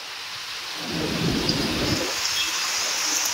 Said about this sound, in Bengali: আর এই হচ্ছে বৃষ্টির অবস্থা, অর্থাৎ ঝড়ো আবহাওয়া। বৃষ্টির ভিতরে শুধু বৃষ্টি উঠতেছে, প্রখর বৃষ্টি।